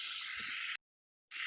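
Boiled pork frying with spices in a pan, a steady close hiss of sizzling oil that cuts out briefly and then resumes.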